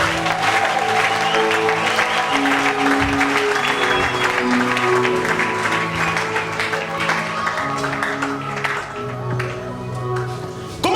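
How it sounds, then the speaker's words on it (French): A church congregation bursts into sustained loud applause and cheering during a service, the clapping filling the space for several seconds while a voice carries on over it. "Acclame très fort le Seigneur."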